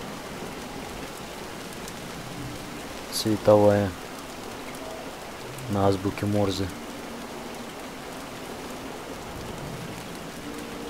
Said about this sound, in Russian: Сколько уже этот дождь идет